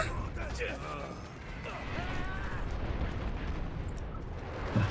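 In the online shooter Dirty Bomb, a grenade goes off in a deep rumbling blast while a player talks over the game's continuous mechanical and combat noise.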